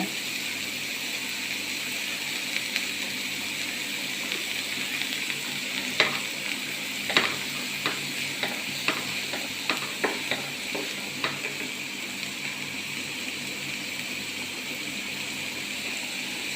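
Chopped curry leaves fry in a pan with a steady close hiss, joined midway by a run of sharp pops and crackles that gradually thin out.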